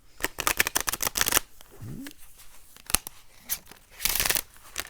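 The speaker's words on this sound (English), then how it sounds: "Let's give them a quick shuffle" Tarot cards are shuffled in quick crisp bursts of riffling and flicking, close up, with short pauses between rounds.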